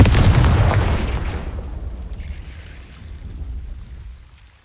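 A loud blast from the Confringo spell in the video game Hogwarts Legacy: one booming explosion at the start with a deep rumbling tail that fades over several seconds.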